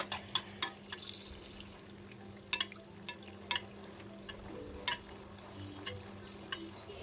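Mangalore buns fry in a pan with a faint, low oil sizzle punctuated by scattered sharp pops and crackles at an uneven rhythm.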